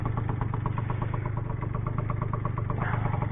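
A two-stroke scooter engine idling with a steady, fast, buzzing putter, close and continuous without pause, rough and vibrating.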